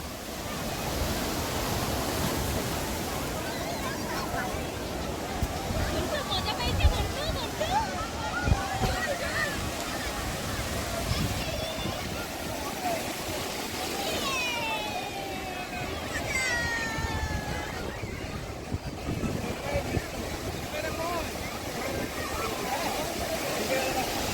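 Sea waves surge and break on the beach at Digha in a continuous broadband wash, loud and close, with excited voices talking and calling out over the surf throughout.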